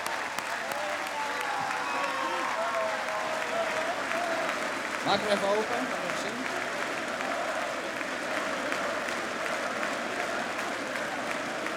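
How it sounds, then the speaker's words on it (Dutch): A stadium crowd applauds at a football player's farewell ceremony at Ajax Amsterdam, with dense, sustained clapping and crowd noise throughout and a voice speaking briefly over it. "Een groot applaus."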